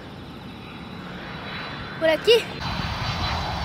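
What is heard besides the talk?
airplane flying over near an airport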